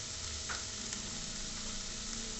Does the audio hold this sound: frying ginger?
yes